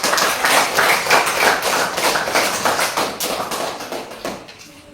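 Applause breaks out for a group of students in a classroom, with dense steady clapping from many hands that holds for several seconds and then thins out toward the end.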